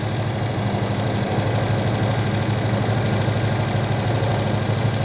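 A turbocharged V8 engine in a police car with custom exhaust, EFI and intercooler, idling steadily at about 1,500 RPM with a loud, constant low rumble and an even throb close by.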